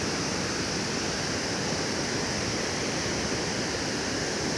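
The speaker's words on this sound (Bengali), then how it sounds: "এখান দিয়েই তো জল বয়ে যাচ্ছে নিচের দিকে" Rainbow Falls in Darjeeling pours with water rushing downhill, a dense, steady roar of flowing water filling the scene evenly without pause, close and loud, with no voices.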